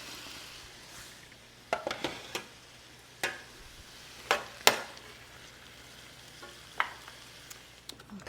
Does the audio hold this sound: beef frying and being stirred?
yes